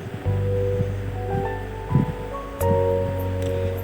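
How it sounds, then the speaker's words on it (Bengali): Sliced onions fry in white oil for chicken biryani, giving a continuous close sizzle and hiss with a few louder spatters and pops. "এখন আমি বেরেস্তার জন্য পেঁয়াজগুলোকে সাদা তেলে ফ্রাই করে নেব।"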